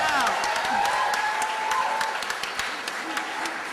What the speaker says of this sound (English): Now let's just have a big cheer for WikiLeaks.